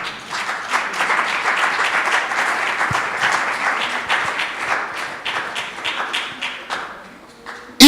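A church congregation applauds at a seminar service, a dense, sustained crowd clapping that fills the room and keeps going steadily, with a few voices mixed in and a sharp knock at the very end.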